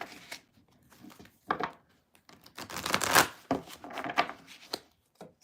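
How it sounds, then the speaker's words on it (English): Several decks of playing cards shuffled by hand: a quiet run of soft riffling and flicking bursts, each lasting a second or so, with a denser rattle in the middle and short gaps between. "I do have to shuffle a few decks beforehand"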